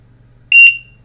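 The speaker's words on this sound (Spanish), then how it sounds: "Ahora ya han pasado los 40 segundos, pita, pitido bastante fuerte, y se ilumina de color verde." A single loud, high-pitched electronic beep from an airsoft flash bang grenade after its 40-second timer, starting abruptly and lasting about a quarter second, then fading, over a low steady hum.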